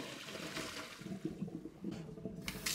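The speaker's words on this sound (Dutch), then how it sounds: "Ga ik hem even afgieten en afspoelen met koud water." Cold water rushes and splashes as bean sprouts for chicken spring rolls are drained and rinsed in a kitchen, a faint continuous pour with small bursts of splashing.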